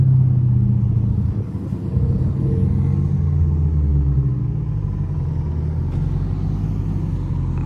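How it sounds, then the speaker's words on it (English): A Dodge Hellcat engine rumbles loudly and deeply with a steady low exhaust drone, holding a constant idle-like growl throughout. "I was just trying to let y'all hear the car."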